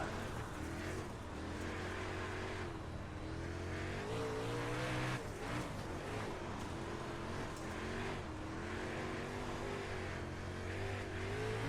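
Super late model dirt car engines in the iRacing video game roar steadily at Cedar Lake, a constant loud drone rising and falling with throttle and shifting pitch, running without a break throughout.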